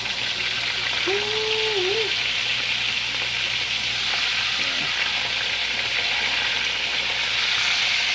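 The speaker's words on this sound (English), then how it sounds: "now it's time to flip that meat" Meat sizzles steadily in a hot pan right after being flipped, a loud, continuous frying crackle for Mexican dinner cooking, with a brief faint tonal squeak near the start and no talking.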